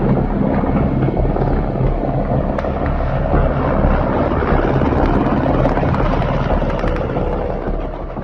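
Military helicopters, Mi-17 transports escorted by Kamov-52 gunships carrying Russian paratroopers, roar in a dense, steady rotor and engine drone with gusting wind noise, fading slightly at the end.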